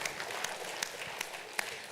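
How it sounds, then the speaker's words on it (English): Audience applause fills a hall at a bank's annual general meeting, a steady wash of many hands clapping at moderate distance with a few sharper claps standing out. "clap for this man"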